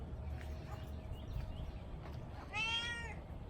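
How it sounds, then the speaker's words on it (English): A neighbor's cat meows once, a clear drawn-out call near the end, close by in a quiet outdoor yard, with faint background rustle before it and no talk. "This is the neighbor's cat. It likes to come over and talk to us and beg for treats."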